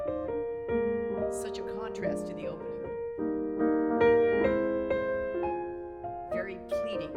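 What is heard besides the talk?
Mendelssohn Piano Trio, tender second theme of first movement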